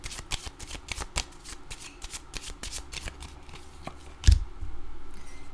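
Tarot cards are shuffled in a quick series of crisp riffling slaps, close and fairly loud, ending with a firmer thump as a card is laid down, followed by quieter rustling.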